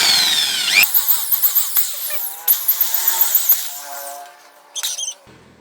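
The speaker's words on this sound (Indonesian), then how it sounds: "pastikan pipa juga harus lurus ya saat pengeboran" Electric drill boring a hole into a PCP airgun pipe: a steady whining motor broken by repeated short revving bursts and stops, close and fairly loud, with no talking.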